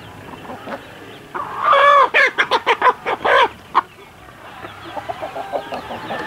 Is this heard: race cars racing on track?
no